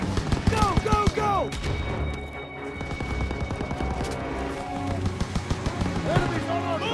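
Machine gun fire from a barn in Call of Duty: WWII during a wartime battle, rattling bursts and thuds mixed with shouting voices, chaotic combat din throughout.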